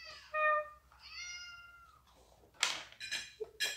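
Several cartoon cat meows from a Mickey Mouse Clubhouse fire station episode, drawn-out and tonal, followed by brighter, strained yowls and cries, clear and close with no talk over them.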